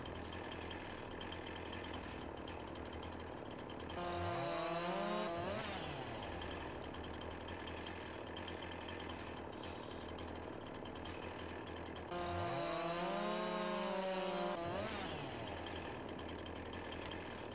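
A chainsaw felling trees in the farming game Farming Simulator 22, heard as two separate bursts of rising, revving engine whine over a steady low background hum, each lasting a couple of seconds.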